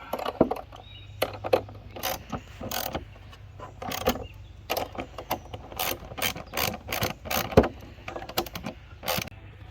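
A ratchet wrench tightens bolts that join plastic barrel halves for a raised garden bed, giving rapid bursts of sharp, close clicking in uneven runs with short pauses between strokes.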